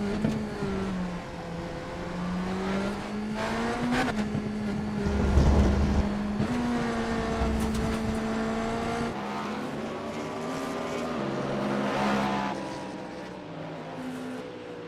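A prototype race car engine drones and shifts pitch as it accelerates, revs up and eases off repeatedly, loud and close.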